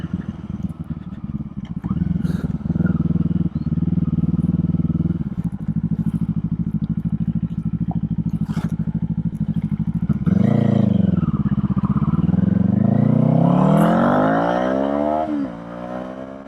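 A Kawasaki Eliminator motorcycle engine drones steadily while riding on a road, then revs up and down with rising and falling pitch. Loud, close, with no talking.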